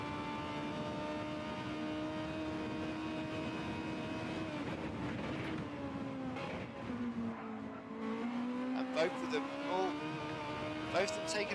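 A Honda Civic Type R race car in Gran Turismo 7 at Sardegna accelerates downhill, its engine droning steadily and climbing in pitch through gear changes, with faint tire squeal under an ongoing commentator's voice.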